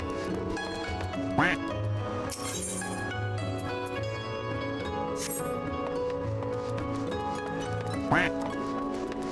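A duck quacks in the video game Final Fantasy XIV: Stormblood, with a few sharp quacks popping out over steady, layered in-game background sound.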